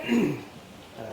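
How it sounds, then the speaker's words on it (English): A man at an awards podium gives one short, rough throat clear right at the start, followed by quiet room tone. "clearing my throat here"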